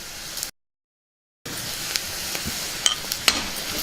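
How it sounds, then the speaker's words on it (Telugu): Chopped onion pieces frying in a pan while cooking taro root fry, a loud steady sizzle cut by a brief silent gap, with occasional stirring clicks and scrapes. "ఉల్లిపాయ ముక్కల్ని కాసేపు బాగా వేగనిద్దాం"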